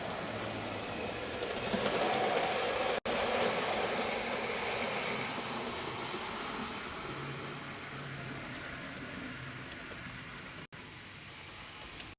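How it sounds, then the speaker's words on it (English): A 00 gauge model train rumbles steadily along a track, a continuous rattling whir with faint clicks, close and even throughout. "I'll just bring the train into the station"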